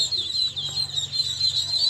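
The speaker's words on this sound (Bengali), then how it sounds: "আপনারা দেখতে পাচ্ছেন একদিন বয়সী পিকিং স্টার তেরো জাতের হাঁসের বাচ্চা" Continuous high-pitched peeping from many day-old Pekin ducklings, steady and close, with a faint low hum underneath.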